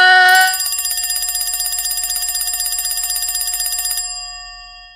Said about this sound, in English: The bells are ringing like it's a stock exchange